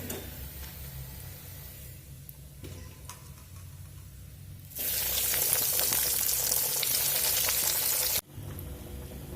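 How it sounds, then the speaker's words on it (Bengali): Chicken chops fry in hot oil in a home kitchen, a steady close sizzle that swells much louder and brighter midway, then drops briefly near the end before carrying on. "এরকম লাল লাল করে আমি ভেজে নেব"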